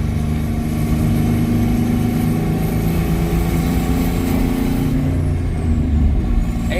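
A twin-turbo V6 Mustang engine running rough and bucking with little power, a loud, close, uneven rumble with a whine above it, sustained and alone.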